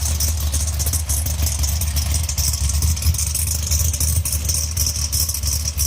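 A warmed-up Pontiac 428 V8 street/strip engine idles steadily at about 1200 RPM with mufflers fitted, a loud, even low rumble running continuously throughout with no talking.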